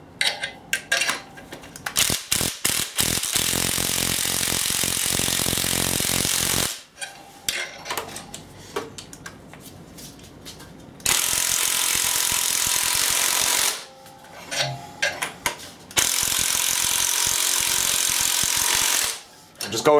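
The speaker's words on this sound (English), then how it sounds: "all I'm going to do is I'm going to just run it down with the impact gun" Impact gun running bolts down on a VW camshaft in a home garage, Loctite already on the threads: three long, loud rattling bursts of several seconds each, separated by brief pauses and scattered clicks, with no talk.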